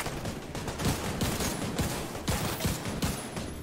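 Gunfire in The Division 2, with bullets striking a wall: a dense, continuous clatter of rapid shots and impacts, steady and fairly loud, with no talking over it.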